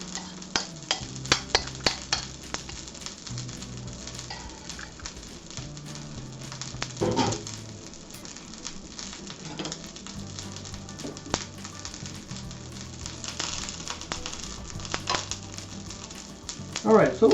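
Marinated tempeh sizzling in a hot frying pan, a steady crackle dotted with spatter pops, clicks and utensil scrapes as pieces are stirred and moved, loudest near the end.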